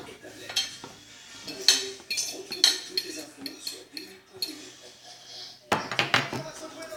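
A spoon mixes ham into pasta in a pot, with scraping, clinking metal-on-pot knocks at an irregular pace, close by, followed by a louder clatter near the end.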